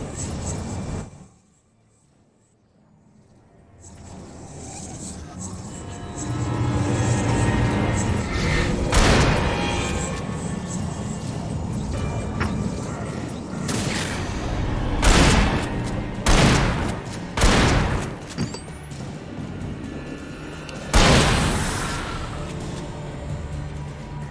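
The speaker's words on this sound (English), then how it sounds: "running out of flashbangs then as well" Flashbang explosions in the horror action game Alan Wake, several sharp booming bursts spaced a few seconds apart over steady game noise, following a short near-silent gap at the start, with occasional talk.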